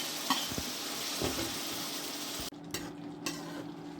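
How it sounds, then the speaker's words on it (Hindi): Tomato and onion fry and sizzle in a pan for a paneer curry, a steady bright hiss broken by a few scrapes of stirring. The sizzle drops and changes partway through, then goes on more quietly with light clinks. "सिर्फ थोड़ा सा फ्राई करके इसमें टमाटर प्याज वगैरह में फ्राई करते हैं"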